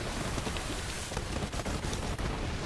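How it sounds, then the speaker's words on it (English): Dense, continuous roar of big explosions from bee-filled grenades in Borderlands 3, loud and sustained with several sharper blasts popping through a thick rumbling wash, no talk over it. "These are full of bees, and they make big explosions."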